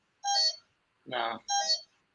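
A glitchy home alarm gives two short electronic beeps, with a rougher warbling burst between them, loud and close against silence.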